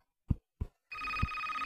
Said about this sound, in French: Oula, mon téléphone, j'ai fait sonner.